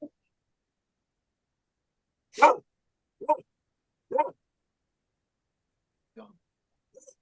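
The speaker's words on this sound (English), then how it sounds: "These dogs will bark at anything they hear walking around outside" A few sharp barks ring out with pauses between them, followed by fainter yips, against near silence.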